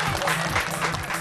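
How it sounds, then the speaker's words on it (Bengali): A studio audience on a TV show stage claps for a young participant, a short, steady patter of many hands at moderate loudness with no pause. "ওর জন্য একটা হাততালি।"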